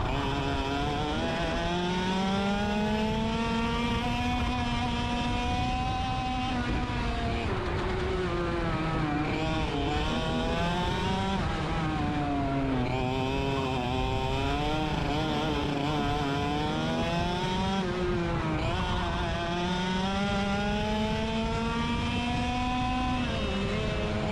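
Race car engine from a driver's onboard view on a track, loud and continuous, its pitch rising and falling through gear changes and braking into turns.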